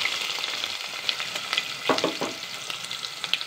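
Two medium chopped onions fry in hot oil in a pan for sambar, sizzling steadily up close with crackling pops and a brief louder burst of spattering midway.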